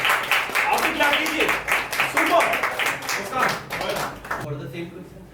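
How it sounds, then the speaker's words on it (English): An audience in a question-and-answer session claps under ongoing talk, with a burst of scattered applause that tapers off toward the end. "Clap करो भाई, बहुत अच्छे. आप भी clap कीजिए."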